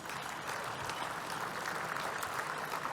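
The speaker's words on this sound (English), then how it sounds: "How about applause for early voting?" An audience at a climate-solutions benefit event breaks into dense, steady applause, many hands clapping at once in a large room with no voices standing out.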